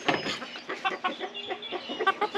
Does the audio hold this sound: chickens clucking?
yes